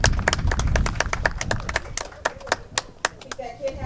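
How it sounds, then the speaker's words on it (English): Crowd applause at a county fair show ring, a lively burst of clapping with distinct hand claps over a busy outdoor background, thinning out toward the end, with a voice talking underneath. "and I think that deserves a round of applause."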